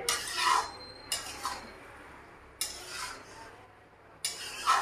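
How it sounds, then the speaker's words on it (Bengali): Shredded cabbage is stir-fried with spices in a pan until dry, with four or five separate scraping, clattering strokes of a spatula against the pan and quiet pauses between them. "উল্টে পাল্টে মশলার সাথে ভালো করে বাঁধাকপিটাকে একটু কষিয়ে নিতে হবে"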